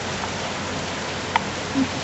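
Steady rain falls in a continuous, even hiss at moderate level, with a single brief tap and a short low knock near the end; no one speaks.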